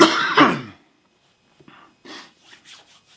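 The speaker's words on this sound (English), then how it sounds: "Hold on a second, I got a cough." A single loud, close cough bursts out, followed by quiet rustling and faint breathing sounds.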